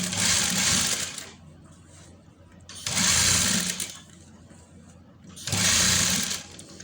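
A sewing machine stitches elastic onto trousers in three loud, steady whirring bursts of about a second and a half each, separated by brief quieter pauses.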